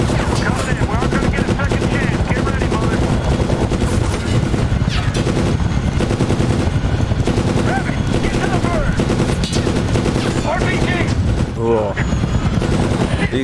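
Gunfire in the Medal of Honor video game, a dense nonstop barrage of machine-gun rattle and shots with a helicopter-like roar underneath, loud throughout, with voices mixed in.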